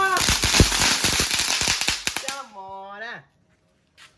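Vishu firecrackers set off at New Year burst in a loud, rapid string of sharp cracks for about two seconds, then a sustained whistling or buzzing tone rises and wavers before stopping, followed by near silence.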